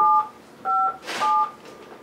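Three short two-tone keypad beeps sound in sequence with pauses between them, and a faint burst of noise falls between the second and third.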